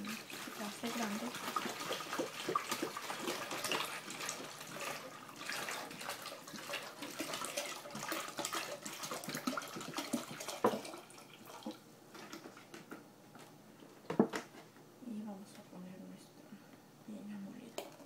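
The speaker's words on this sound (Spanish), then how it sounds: "vamos a poner la demás agua en un vaso grande" Water is poured into a large glass for a homemade pineapple drink in a kitchen, a quiet continuous trickling and splashing with soft clinks, under low talking.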